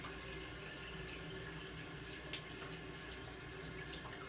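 Tap water running steadily into a sink while a face is rinsed after shaving with a shavette, a constant faint splashing stream with small irregular splashes.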